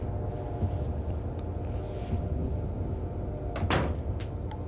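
A door opens in the video game Silent Hill 3, a brief creak and clatter rising out of a dense low rumbling ambience near the end.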